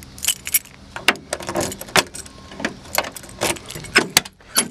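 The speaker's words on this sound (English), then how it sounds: "So I'm gonna go get the keys and we'll go inside the truck." A bunch of truck keys jangles and clinks near the mic in repeated bursts, with sharp metallic rattles over a few seconds and no talking.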